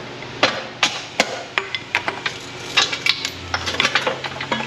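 A hammer strikes car suspension parts, such as a control arm, in a series of sharp metallic blows that start spaced out and then come faster and more irregular, close by.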